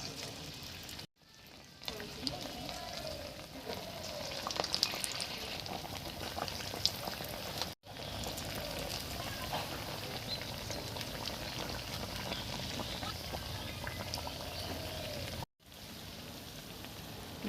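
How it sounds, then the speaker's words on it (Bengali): Lentil and greens fritters fry in hot oil for an iftar meal, a soft, continuous bubbling sizzle at moderate distance, broken by three brief drops to near silence, with no voices. "আমি তেল দিয়ে দিয়েছি বড়া ভাজার জন্য।"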